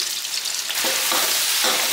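Scallion, ginger, garlic and spicy hotpot base hitting hot oil in a wok, a loud bright close-up sizzle that swells as more goes in, with no talking.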